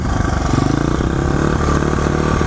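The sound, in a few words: motorcycle engine revving as the throttle is twisted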